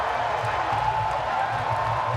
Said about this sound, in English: The crowd applauding that game effort of Johann Duhaupas.